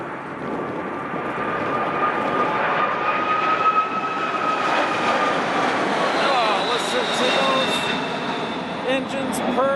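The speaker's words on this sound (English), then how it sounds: "Engines purr along there," British Airways Boeing 747-400 heavy jet at Chicago O'Hare, its engines roaring steadily and loud with a sustained whine over a broad rushing wash, close by for the whole stretch.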